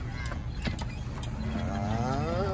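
A cow lets out a long, low moo that rises in the second half, heard up close over a busy outdoor background.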